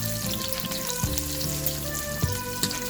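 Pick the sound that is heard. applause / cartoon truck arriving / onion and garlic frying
onion and garlic frying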